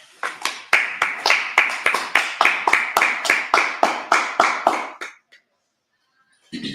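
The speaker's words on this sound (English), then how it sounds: "let's clap it up" A group claps in unison at a brotherhood gathering in Minnesota, about twenty sharp, evenly spaced claps that end abruptly, followed by silence and then a voice starting to speak.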